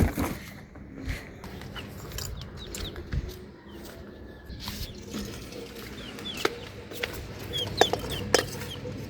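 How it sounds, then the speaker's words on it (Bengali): Chickens let out of their coop cluck in scattered, fairly faint bursts amid outdoor background noise, with a few sharper calls toward the end. "মুরগি টুরগি বের করি।"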